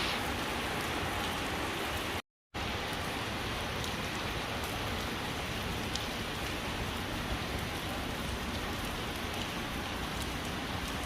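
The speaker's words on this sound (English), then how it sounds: "raining in Qatar." Rain falls steadily in Qatar's Marina District as a dense even hiss of drops, faint and continuous with a momentary break, no voices.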